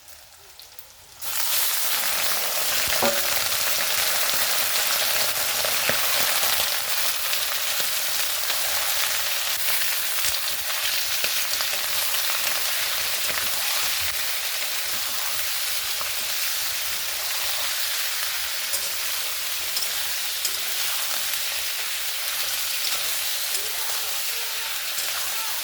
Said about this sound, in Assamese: আৰু মোৰ পিঁয়াজখিনি ভাজা হৈ গৈছে। এতিয়া মই এড কৰি মাংসখিনি।